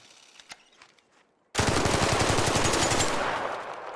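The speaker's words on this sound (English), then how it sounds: "I got 20 bullets in this Stitcher, right? I had to unload the whole clip on him." The Stitcher gun in the game Arc Raiders empties a full 20-round magazine, a loud rapid burst of close shots running about two and a half seconds after a short quiet lead-in.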